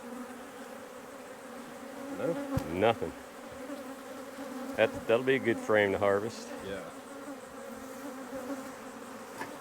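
Honey bees hum steadily around a hive frame during a July honey harvest, a close continuous drone running under brief spoken comments.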